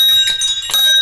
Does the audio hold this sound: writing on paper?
no